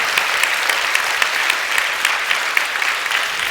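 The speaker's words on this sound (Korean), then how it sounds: "우리 뜨거운 박수를 한번, 이따 인사하겠지만 한번 해주시기 바랍니다" A church congregation at a Sunday worship service claps warmly for a departing pastor, a sustained, even roar of applause with individual claps popping out of the mass.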